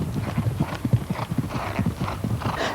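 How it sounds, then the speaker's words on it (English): Horse hooves drum in a fast, rhythmic clip-clop on a training course at novice horse trial speed, a brisk steady beat of close footfalls with some breathing noise. "the horse will be going at 520 metres per minute, which is novice horse trial speed"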